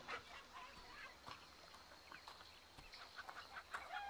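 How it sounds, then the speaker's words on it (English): Chickens clucking in the fantasy video game Fable The Lost Chapters, a few faint short clucks and squawks scattered over quiet ambient background, distant and sparse. "Chickens!"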